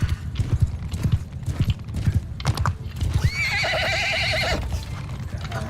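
Horses in the Mount and Blade II: Bannerlord video game clop along in a steady hoofbeat, then one horse gives a loud, drawn-out neigh that wavers near the end, all close and clear with no talk.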